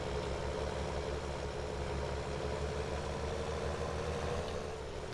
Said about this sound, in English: A big trailer for this little tractor.